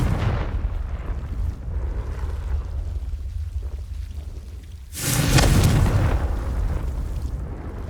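A Confringo fire spell explodes in Hogwarts Legacy with a sudden loud burst that rumbles and fades. Steady low game ambience runs before the blast.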